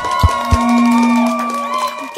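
An audience at a school Christmas debate cheers and whoops loudly, with sustained shouting, scattered claps and high-pitched yells filling the room, close and energetic.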